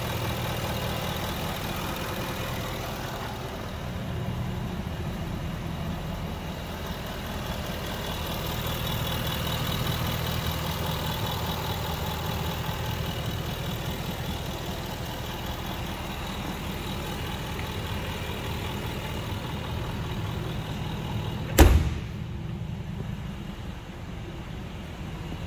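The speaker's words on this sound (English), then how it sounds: "Motor sounds perfect." A 2010 Jaguar XK V8 engine idles with a smooth, steady low rumble, interrupted near the end by a single sharp knock.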